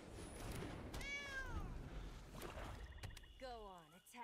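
Cat meows from the Sanctuary Cat card in the video game MTG Arena, two or three distinct meows with a rising-falling pitch, heard over a soft background with a voice talking.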